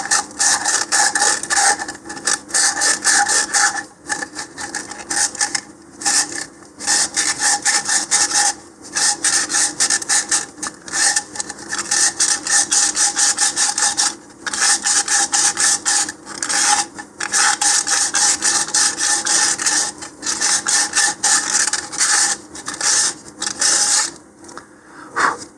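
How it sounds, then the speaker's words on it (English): Steady rasping of 100 grit sandpaper worked back and forth inside a 3D-printed part for a V2-style model rocket, loud and continuous with brief pauses between strokes. "here I'm going to use some 100 grit sandpaper. And I'm going to first sand the inside of this."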